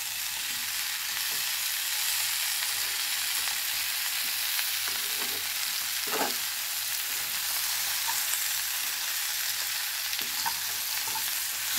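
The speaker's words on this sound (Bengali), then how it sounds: "এবার সবজিগুলো দিয়ে আমি শুধু নাড়তে থাকবো" Vegetables frying in a pan over a gas flame, a steady dense sizzle running throughout with occasional soft scrapes and knocks of a spoon stirring, no voices.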